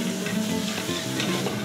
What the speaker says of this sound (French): on va laisser revenir les oignons, les lardons